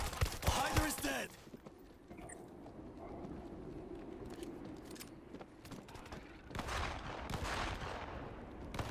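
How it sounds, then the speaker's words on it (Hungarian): Gunfire in the zombie shooter World War Z, Tokyo level, with bursts of shots from a bus that must be defended, scattered cracks and rattles over a busy game soundscape. Someone talks over it. "Gunfire from the bus!"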